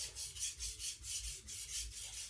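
Knife sharpened on a Takayuki Shibata Bitey finisher stone with light hand pressure, a steady rhythm of about nine close, gritty rubbing strokes back and forth, no voices.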